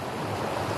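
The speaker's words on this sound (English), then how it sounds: "So this is the Rubicon River." Rubicon River flowing in the Desolation Wilderness of Eldorado National Forest, a steady broadband rush of water that fills the short moment with even, continuous noise.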